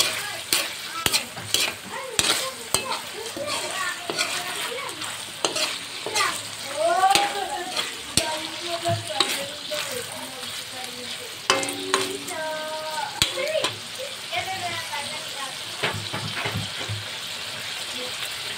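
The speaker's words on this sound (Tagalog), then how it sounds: "Kumukulo na ng mamantika na siya." Chicken liver and gizzard adobo sizzles and bubbles in oily sauce in a pan, with steady frying crackle, spoon scrapes and stirring clatter throughout as a voice talks intermittently.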